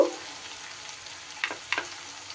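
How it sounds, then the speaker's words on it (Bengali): Onions fry in a pan for mung dal, a soft steady sizzle with two brief louder stirring scrapes near the end. "পেঁয়াজ যখন মোটামুটি একটু ভাজা ভাজা হয়ে যাবে তখন আমি এই পর্যায়ে দিয়ে দেব"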